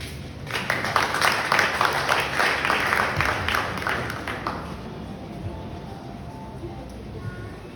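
Audience at a graduation ceremony applauding, a dense wash of many hands clapping that builds, peaks and then fades into room murmur.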